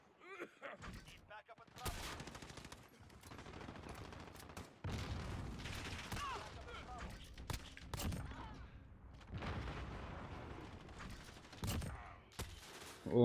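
Gunfire from Call of Duty Modern Warfare, with repeated bursts of automatic shots and scattered single cracks over about thirteen seconds, loud bursts separated by brief lulls.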